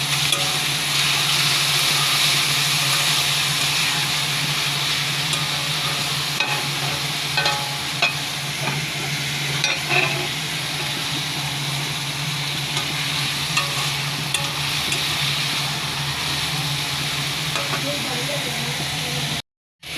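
Chopped potatoes and onion with leafy greens fry in a pan for a Bengali saag bhaji, a steady loud sizzle and hiss with occasional stirring scrapes throughout, no talking, cutting off abruptly at the very end.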